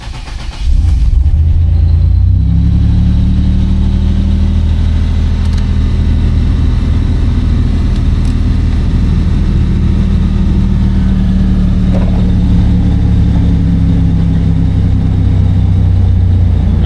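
A 1987 Buick Grand National engine cranks over, catches and settles into a steady, rumbling idle that runs on loud and close for the rest of the stretch, with no talking.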